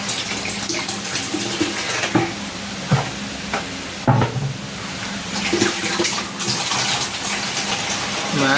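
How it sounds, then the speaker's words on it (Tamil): Water gushes hard and steadily from a tap fed by a motor pump, filling a pot with a continuous rushing splash and a few clunks and knocks. "தண்ணி வேமா வந்துட்டு"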